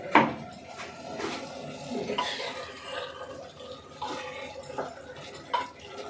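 Water bubbles and drips in a pot of simmering pumpkin curry, with soft irregular splashes and small clinks up close and no talking.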